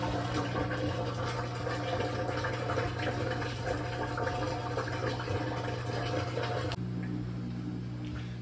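An LG WM3370HWA front-load washer drains its water in a steady rushing, gurgling flow over a constant low pump hum, then the flow cuts out abruptly near the end, leaving only the hum.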